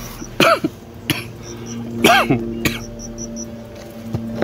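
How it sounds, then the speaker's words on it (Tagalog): Two close, harsh coughs, each a quick burst followed by a few smaller coughs, with quiet pauses between. "So may kunting ubo rin tayo"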